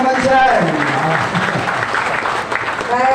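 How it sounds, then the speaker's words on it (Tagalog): Brief, loud applause from an audience at a regional conference as a participant is called to stand, with voices mixed into the clapping. "Palakpak naman dyan."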